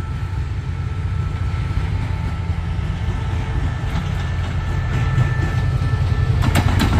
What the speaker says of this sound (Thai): ชานชลาสามก็มีรถเปล่าเข้ามา